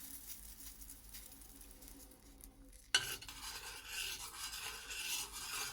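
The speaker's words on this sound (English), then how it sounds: "So it's boiling now, and I'm just going to give it a good stir" A spoon stirs boiling agar medium in a pot, with faint scraping and bubbling that gives way to a sudden clatter and a louder, rushing bubbling boil.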